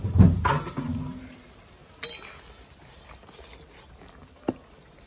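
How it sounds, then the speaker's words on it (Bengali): A metal pot lid clatters down onto a pot of thin eggplant and sea-fish curry on the stove, a loud clang at the start, then softer clinks and a sharp tap later. "এরপরে আমি ঢাকা দিয়ে দেবো।"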